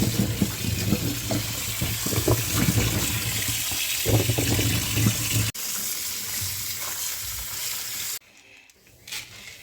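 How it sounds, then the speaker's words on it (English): Running tap water splashes steadily over carrots, lettuce and onions with intermittent clatter of items being rinsed, cutting off abruptly near the end to quieter background. "now I'm washing all my vegetables"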